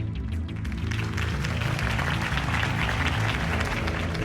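Crowd applause follows a campaign speech in a video game, steady dense clapping from a large audience that holds for several seconds at an even level, with no talk.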